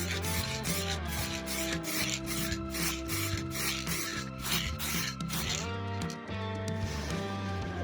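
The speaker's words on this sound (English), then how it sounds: "1500 grit sandpaper, wet." Van paint wet sanded by hand with 1500 grit sandpaper: quick, rhythmic rasping strokes, close and steady, over background music.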